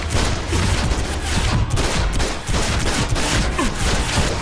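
Dense, continuous gunfire from enemies in the DC Universe Online video game, a loud, rapid barrage of shots that keeps up without a break.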